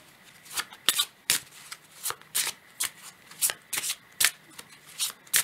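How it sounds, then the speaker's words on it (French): Oracle cards are shuffled by hand in quick bursts, a close run of crisp riffling flutters repeating every half second or so, with no voices. "je vais prendre quand même une seconde carte pour préciser cette carte d'obstacle"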